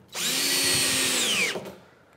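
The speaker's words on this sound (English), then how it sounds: "Sounds like my drill's going a little down." A cordless power drill with a weakening battery whirs in a workshop during workbench building, one short burst of about a second and a half whose pitch sags slightly before it stops, loud and close with no talk.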